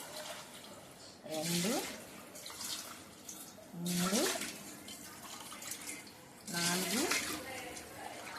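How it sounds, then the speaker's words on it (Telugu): Water poured cup by cup into a pot of chicken biryani, three separate splashing pours spaced a couple of seconds apart while a voice counts along. "డబ్బాకి డబ్బా చొప్పున వేసుకోవాలి వాటర్"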